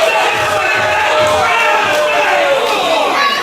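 A crowd at a small, hot indoor independent wrestling arena roars and groans in reaction to a near three count, a loud dense wash of voices with shouts rising over it, close and sustained.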